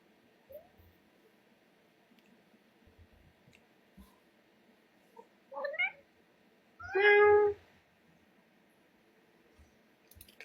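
A cat gives a short chirp and then a clear, drawn-out meow, close and fairly loud against a quiet room, with faint low sounds between the calls.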